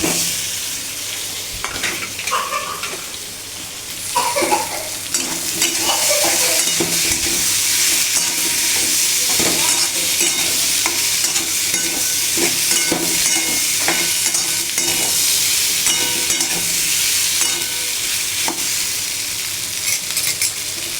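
Potatoes fry in a pan with ginger and garlic, giving a steady close sizzle broken by occasional stirring and scraping of a spoon against the pan.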